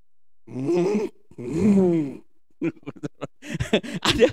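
A voice mimics snoring: two long, drawn-out groaning snores, then a run of short, choppy snorting bursts, loud and close with no other sound.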